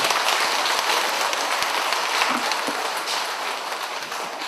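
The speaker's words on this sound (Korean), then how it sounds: "아주 유익한 강의를 해주신 김양재 원장님께 다시 한번 감사의 박수 부탁드립니다." An audience applauds after a skin-health lecture in a hall, a dense, sustained round of clapping that fades slightly toward the end.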